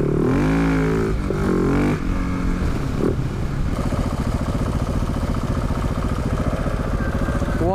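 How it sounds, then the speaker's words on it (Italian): A KTM 690 motorcycle engine runs up close outdoors in strong wind, opening with a few throttle blips and revs before settling into a steady, loud, chugging single-cylinder idle. "Mi sposto la moto."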